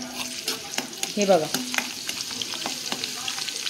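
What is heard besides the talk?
garlic sizzling and crackling in hot oil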